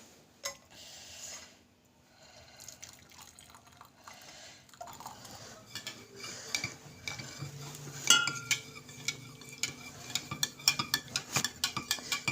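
A spoon scrapes and clinks against a metal pot while food is stirred and mixed, with irregular clattering taps that grow busier and louder toward the end, close by and without talk.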